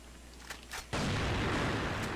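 A gunshot in the video game Crossfire cracks out loudly and holds as a dense burst of noise after a couple of faint pops, with no talking.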